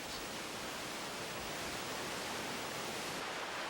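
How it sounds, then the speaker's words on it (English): A steady, dense rush of falling water roars without a break, full and even from start to finish. "By listening closely, you can hear harmonics inside the music of the cascading water."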